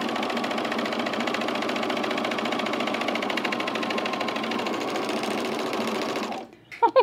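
A sewing machine stitches men's chino pants in one continuous fast whirring run close by, stopping abruptly near the end before a few brief knocks.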